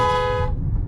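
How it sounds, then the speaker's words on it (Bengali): A conch-style car horn on a cheap second-hand car blows a single steady, bright tone for about half a second, then cuts off, leaving low engine rumble. "এইটাকে শঙ্খ হর্ন বলে, শঙ্খ মানে শাঁখ যেটা হয়, শঙ্খ বাজে সেই হর্ন।"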